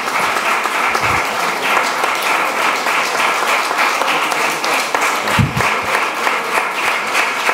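An audience at a talk applauds in a sustained, dense wash of clapping hands that stays loud and even throughout, with a few heavier thumps mixed in.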